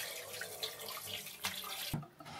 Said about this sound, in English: I'm going to pour my water in here.